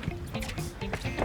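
A caught fish is released back into the water beside a fishing boat off South Walton, making a brief, soft sequence of close splashes and drips.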